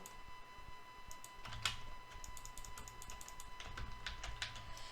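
Fast, faint clicking from a computer keyboard during a Minecraft Bedwars match, with irregular bursts of keystrokes and a soft background hum.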